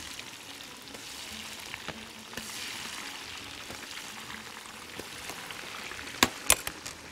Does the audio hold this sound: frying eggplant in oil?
yes